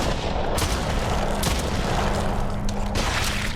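Several gunshots in the horror game Stray Souls sound as sharp cracks spaced about a second apart, a few heavy booming reports over a constant noisy rumbling background.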